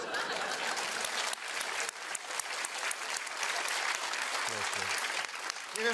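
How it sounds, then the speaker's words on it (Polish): Applause from a crowd of hands clapping, a dense continuous patter of claps throughout, with a voice talking over it near the end. "dlaczego ja biję brawo"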